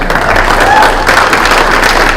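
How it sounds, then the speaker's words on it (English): An audience at a community discussion on policing in Rochester, Minnesota, breaks into steady, fairly close applause that fills the room for a couple of seconds. "Give them a big round of applause."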